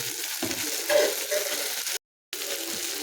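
Ingredients sauté in a hot pan for a dried fish curry, giving a steady close sizzle and frying hiss with light stirring, broken by a brief dropout.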